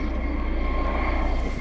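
A police helicopter flies overhead during summer training flights, a steady, loud low rotor and engine drone with a rhythmic pulse that fills the whole moment.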